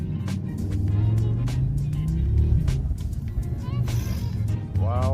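A 2025 Audi RS3 driven fast gives a loud, steady engine roar with rising tones and road rumble from inside the car, with the occupants talking over it.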